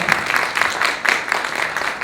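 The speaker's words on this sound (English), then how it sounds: "Give a nice round of applause." A small audience at a theatre fundraising showcase claps briefly, a soft patter of hands with a gently pulsing rhythm, fairly near and moderately loud.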